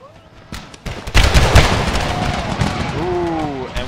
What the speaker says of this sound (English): Tell the unit to open fire down into the cornfield.